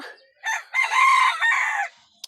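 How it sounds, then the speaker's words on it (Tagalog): A rooster crows once, loud and close, a drawn-out call lasting under two seconds, followed by a brief faint click, outside a hut near a beach. "Manok!"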